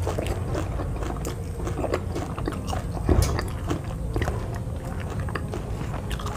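Raw papaya leaves eaten fresh as lalapan, bitten and chewed close to the mic: a steady run of crisp crunches and wet mastication clicks, with one sharper bite midway and no talking.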